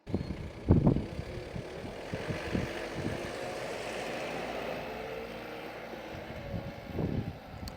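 A payloader loads mulch into a dump truck, with a steady engine rumble in the background and a couple of louder scraping, thumping bursts near the start and again at the end.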